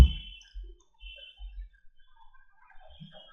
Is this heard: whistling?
no